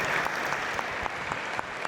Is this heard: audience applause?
yes